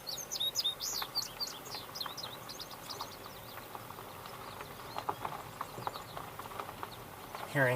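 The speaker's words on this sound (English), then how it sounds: "Hearing American goldfinches now." American goldfinches sing in quick, high chirping phrases, busiest early on and then thinning out. The birds sound fairly faint and distant, with soft outdoor background noise.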